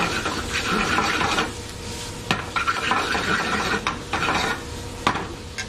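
Onions sautéing in butter in a pan for omelets, with a soft continuous sizzle broken by scraping and stirring strokes and a few sharp clinks of utensil on pan, close up and without voices.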